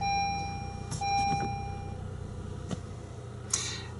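Engine of a 9th-generation Honda Accord idling steadily after a restart, a low continuous hum close by, with a brief electronic beep and a couple of faint clicks over it.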